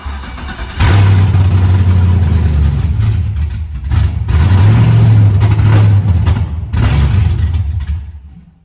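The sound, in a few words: Chevrolet Monte Carlo LT engine running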